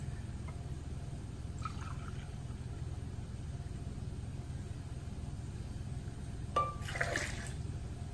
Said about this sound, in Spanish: Y le voy a agregar agua de la misma que hervimos